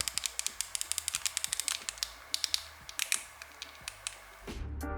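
Rapid clicking of keys on the tiny plastic keypad of a BM200 mini phone, a quick irregular series of close, crisp taps that pause briefly before a final shuffling sound.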